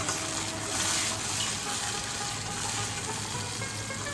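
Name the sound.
pointed gourd seed, coconut and prawn paste frying in oil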